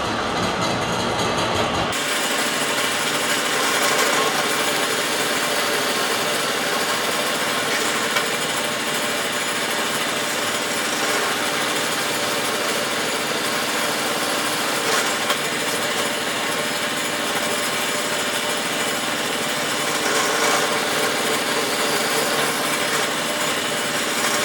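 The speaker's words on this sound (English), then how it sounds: "we're going to go ahead and just punch some 1/2-inch holes in here" A power drill bores half-inch holes in a wooden flat belt pulley pattern. It gives a loud, steady, continuous grinding whine that starts after about two seconds of quiet and holds unbroken to the end, with no talking.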